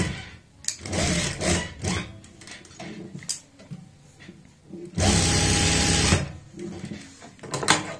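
A sewing machine stitches fabric for a kurti neckline in a loud, close, continuous whir of about a second, with softer handling and shuffling of cloth before and after.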